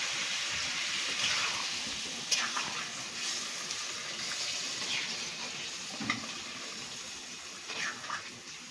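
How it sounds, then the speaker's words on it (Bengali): Hot water poured into a simmering potato curry in a cooking pot, giving a steady broadband wash of splashing and sizzling with a few sharper spatters, continuous and fairly close, no talking. "এবার আমি গরম জল দিয়ে দিচ্ছি।"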